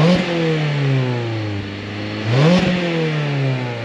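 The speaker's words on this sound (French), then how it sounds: "je pense qu'on a un bruit moteur qui est plus présent" A Mazda 2-litre naturally aspirated engine on its original exhaust revs twice, each blip rising sharply then falling back toward idle, loud and close with no talk.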